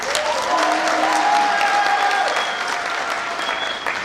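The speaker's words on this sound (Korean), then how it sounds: "박수 한번 주세요." An audience claps steadily and fairly loudly throughout, a dense wash of applause at a Rotary membership lecture, with a faint voice threading through underneath.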